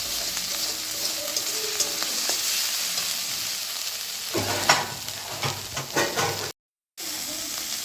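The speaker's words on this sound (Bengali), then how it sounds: "মশলাটা ভালো করে নেড়ে চেড়ে নেব যাতে লেগে না যায়" Spice paste for mustard hilsa sizzles in a pan as a spatula stirs and scrapes it, a steady close frying hiss with scraping strokes, broken briefly by a moment of silence near the end.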